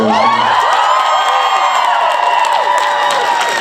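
A large comic con crowd at a Supernatural cast Q&A panel in Toronto cheers, whoops and claps, a loud, sustained roar of voices and applause with no pauses.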